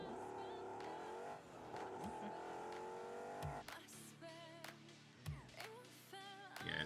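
A car engine in a PC video game revs and climbs in pitch through a steady drone, then short bursts of revving and tire noise follow. Voices chatter throughout.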